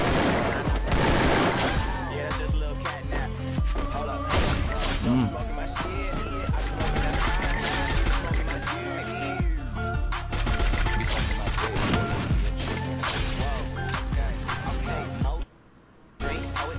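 Dense, continuous automatic gunfire and rapid shots fill a mobile shooter game match with headshots and AK rifle fire. The bursts run loud and unbroken until a brief drop near the end, with game sounds layered over them.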